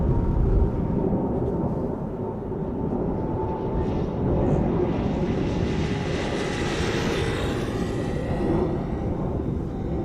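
A Boeing 777 airliner bound for Shanghai passes by at Schiphol Airport, a loud steady jet engine roar and rumble that swells as it goes past over about ten seconds, with no talk.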